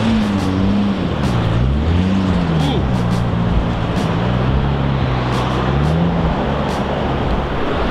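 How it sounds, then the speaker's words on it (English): Jaguar E-Type car on a Tokyo street en route to Shibuya: a steady close engine drone whose pitch rises and falls, set against constant traffic noise. "Jaguar E-Type."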